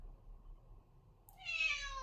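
A domestic cat in a quiet indoor room lets out a single clear meow near the end, after a stretch of near silence.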